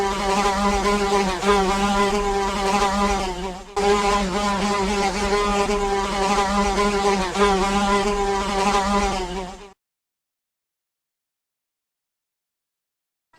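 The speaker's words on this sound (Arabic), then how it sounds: "ذبابة." A housefly buzzes in a continuous droning hum for about ten seconds, close and steady with a slight break partway through, then the sound stops abruptly into silence.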